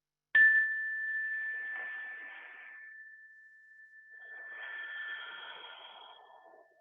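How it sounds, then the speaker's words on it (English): A single meditation bell is struck once, giving a clear bright ring that sustains and slowly fades, with a soft swell of shimmering overtones partway through the decay. "Listen to the sound of the bell."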